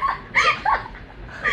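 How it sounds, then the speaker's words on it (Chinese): A dog barks suddenly indoors, a couple of short yelps at moderate distance, with no talk over them. "突然狗叫。"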